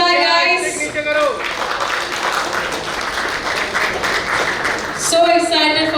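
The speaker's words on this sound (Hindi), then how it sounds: "जोरदार तालियां हो जाए गाइस" A crowd bursts into loud applause at the launch ceremony of an actor's film 'Saiyaan Arab Gaile Na 2', with voices speaking just before and as the clapping tapers off.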